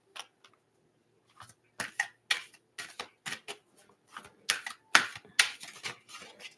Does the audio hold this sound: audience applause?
no